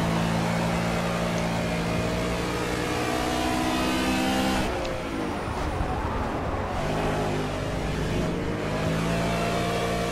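Racing car engines in Project CARS during a GT Touring race at Road America, a continuous loud, close engine drone with shifting revs and gear changes, other cars roaring past.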